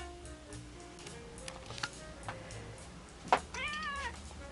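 A cat meows a few times, close by, a drawn-out plaintive meow near the end, with quiet background hum and no talking.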